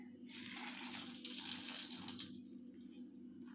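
Boiled water is poured over tomatoes in a kitchen while making tomato candy, a steady splashing gush that swells and then stops abruptly, with a low hum behind it.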